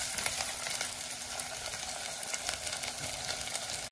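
Tomato tossed into a pan of fried onion, sizzling and crackling steadily and loudly up close for several seconds, no voices over it, while Malvani-style Konkani village cooking goes on.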